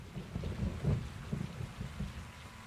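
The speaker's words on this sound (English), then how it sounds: "Rain's good, it'll cover your tracks." Steady rain falls in a Call of Duty Modern Warfare 2 campaign level, a continuous low rumbling wash with soft patter and faint thunder-like swells, moderately loud and with no voices.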